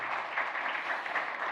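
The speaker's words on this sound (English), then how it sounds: "give him a big round of applause" Church audience applauds a guest taking the stage, a short burst of dense, even clapping from many people with no voices over it.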